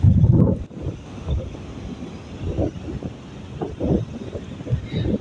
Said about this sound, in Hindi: मैं चीख रहा हूँ इसलिए क्योंकि यहाँ पर हवा चल रही है